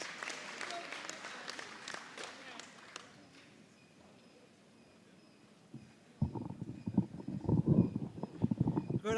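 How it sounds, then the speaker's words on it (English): Audience applause at a student awards ceremony during Mico Week 2025, dense clapping for the first few seconds that thins out, followed by low, heavy thumps and rustling close by. "Give her a round of applause as she comes."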